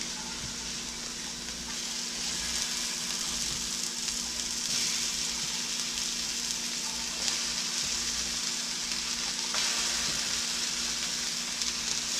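Food sizzles steadily in a hot cast iron skillet during meal prep, a constant soft frying hiss with faint crackles and no voices.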